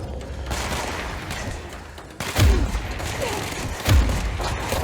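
Gunfire from the Control video game over a dense, noisy game soundscape, with two heavy booming shots standing out a second or so apart.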